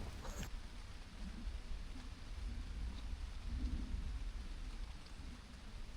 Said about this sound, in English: the rain decides to join me